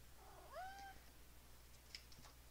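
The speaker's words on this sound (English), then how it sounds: "Ignore the cat." A single quiet cat meow with a rising, drawn-out tone, followed by faint small noises in a hushed room.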